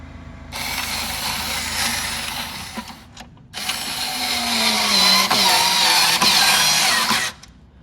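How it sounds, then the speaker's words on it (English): A power drill whirs in two bursts, driving a screw in while installing a booklet maker on a Xerox PrimeLink copier, with a brief pause between and a rising strain as it tightens near the end. "you're going to drill your screw in there and tighten it up."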